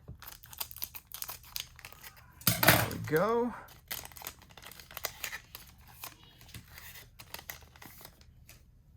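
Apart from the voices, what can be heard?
scissors cutting open a Pokémon card pack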